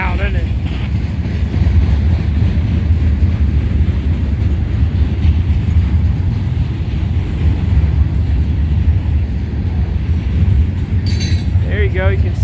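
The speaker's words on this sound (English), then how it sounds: "once this gondola train and CSX train moves through" A CSX gondola freight train rolls past at a road crossing, a loud, steady low rumble with faint metallic clinks and wind buffeting, continuous throughout, with a brief high squeal near the end.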